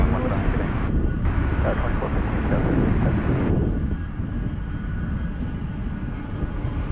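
A McDonnell Douglas MD-11 airliner at DFW airport gives off a loud, broad roaring engine rumble that fills the whole clip and eases slightly toward the end, with a voice talking faintly underneath.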